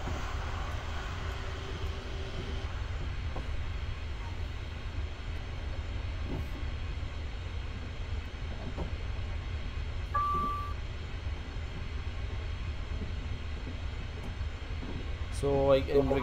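Train rumbling along steadily in the Train Simulator video game, a continuous low engine drone with faint clanks and a brief tone, constant and close, with someone talking over it.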